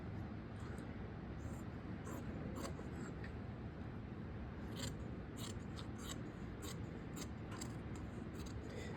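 Scissors snipping through canvas while tailoring a chest piece, with quick, crisp, repeated cuts in short bursts over a faint, steady background hiss.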